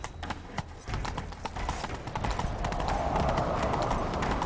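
Hooves pound in a fast gallop in The Witcher 3, a rapid thudding rhythm that grows louder and denser as the horse speeds up, with game ambience behind.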